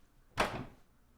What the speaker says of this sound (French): ça c'est un fermeture de porte